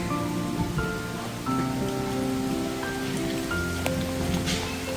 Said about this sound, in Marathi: गडगड वाजायला लागलाय, पाऊस आलाय.